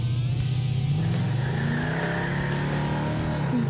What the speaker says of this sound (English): Nothing sounds meaner than a Mopar.